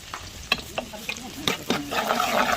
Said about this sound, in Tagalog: gigisa na tayo guys with anato oil para maganda yung kulay niya